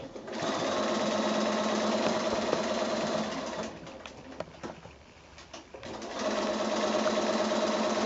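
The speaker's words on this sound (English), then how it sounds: "I'm just going to stitch around from that corner to part way and leave a gap" A sewing machine stitching around the edge of fabric pieces for a pin cushion, a close, steady whirring hum that pauses briefly in the middle and then resumes, with pigeons cooing faintly in the background.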